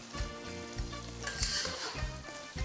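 Ground meat for shepherd's pie frying in a pan with soy sauce, a steady close sizzle with stirring scrapes throughout.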